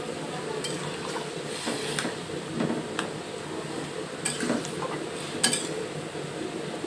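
Potato and Malabar spinach curry is stirred in a pan, with soft scraping and light clinks of a utensil against the metal repeating at an uneven pace over a quiet background.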